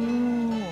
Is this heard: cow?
yes